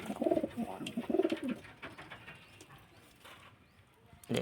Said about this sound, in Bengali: কত সুন্দর পায়রা